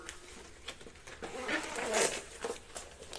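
A zipper on the carry bag of a Rhythm travel oxygen concentrator gives a short, faint rasping pull, quiet and close, with a few soft handling rustles around it.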